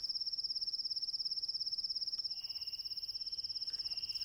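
A steady, high-pitched cricket trill pulses continuously, joined partway through by a second, lower insect buzz; quiet night ambience with no voices.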